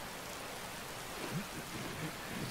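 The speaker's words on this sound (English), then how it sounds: "Get out of the rain, my friend." Steady rain falls in Skyrim around the city of Riften, a soft, even hiss of droplets that holds throughout at a faint level, with a few low murmurs beneath it.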